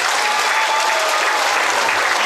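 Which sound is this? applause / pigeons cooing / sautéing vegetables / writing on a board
applause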